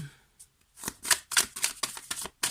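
Cards being handled and drawn one by one for a tarot-style time reading at a table, giving several crisp, close flicks and snaps in an irregular rhythm after a brief quiet start.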